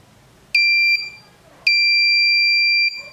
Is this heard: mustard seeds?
no